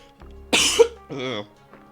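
A single sharp, close cough followed by a brief voiced sound, then quiet.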